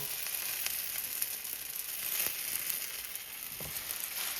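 Two slices of sourdough bread sizzle and fry in a hot pan, a steady, fairly quiet crackling hiss with faint pops and no voices.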